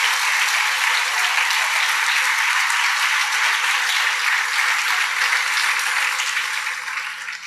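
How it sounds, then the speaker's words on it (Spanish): A church congregation gives sustained applause, a dense wash of many hands clapping evenly and loudly for several seconds before it starts to taper off at the end. "Denle un aplauso al Rey bendito."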